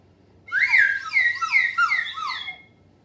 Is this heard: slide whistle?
yes